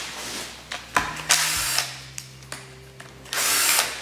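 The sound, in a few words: tool unwinding bolts on Saab 900 engine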